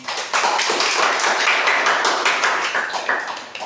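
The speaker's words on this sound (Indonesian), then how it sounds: "tepuk tangan buat kalian semuanya" A classroom of students claps together in a steady round of applause for about four seconds, the sharp hand claps dense and close with no talking over them.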